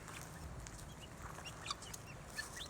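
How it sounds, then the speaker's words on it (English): Guinea fowl calling outdoors in a flock, faint and somewhat distant, with a few sharp clucking cries standing out over a low, steady background. "But that's the guineas, y'all."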